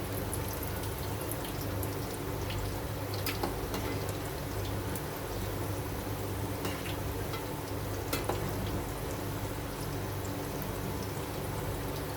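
Prawn and onion fritters (bhaji) made with gram flour fry in a pan, giving a continuous dense sizzle and crackle with small pops, close and steady throughout, no voices.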